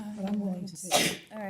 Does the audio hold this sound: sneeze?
yes